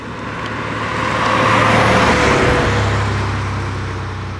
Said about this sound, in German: Man hört das, war 6-Zylinder luftgekühlt.